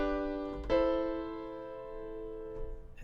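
A sustained inverted chord on a keyboard rings out clearly, with a second soft attack partway through and the notes slowly decaying; no talking.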